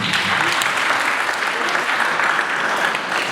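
An audience at a Roma talent show in Szikszó gives a steady, loud round of applause for a young performer, dense clapping with faint crowd murmur beneath.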